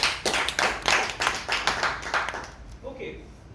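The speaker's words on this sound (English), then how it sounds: "A big round of applause." A round of clapping from a small group at an education session, a few seconds of brisk, rhythmic claps that taper off, with speech-like sounds mixed in.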